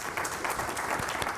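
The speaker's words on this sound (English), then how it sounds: "I think we can give him another round of applause" An audience at a leadership forum applauds a guest on stage with a steady, dense roll of clapping that fills the whole stretch at an even, fairly loud level, with no voices on top.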